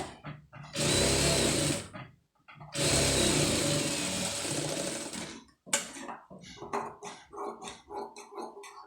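Sewing machine stitching an embroidered blouse runs loud and close in two sustained bursts, then breaks into short stop-start stitching runs.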